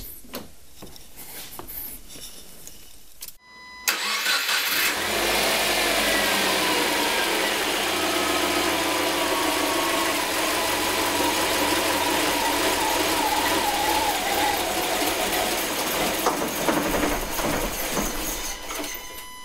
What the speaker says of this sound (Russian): Теперь запущу двигатель и дождусь, пока он не выработает остаток топлива в системе.